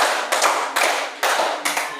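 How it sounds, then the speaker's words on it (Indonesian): Classroom group clapping in a counted ice-breaker: four crisp, unison claps at an even, deliberate pace, loud and near, each followed by a short decay. "Tepuk 1, tepuk 2, tepuk 3, tepuk 4,"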